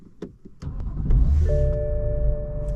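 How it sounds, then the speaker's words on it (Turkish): A BMW M4 3.0 turbo engine cold-starts, turning over and catching after a few clicks, then settling into a steady low idle rumble. "hadi gelin marşımıza basalım"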